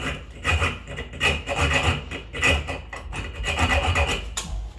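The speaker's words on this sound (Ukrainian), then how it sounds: "взяти полотно від ножівки і зрізати на кілька витків вище, ніж гайка нашу шпильку" A hand-held hacksaw blade cutting a threaded steel stud above a nut during a toilet installation, giving rhythmic back-and-forth rasping strokes, close and moderately loud, with no voices.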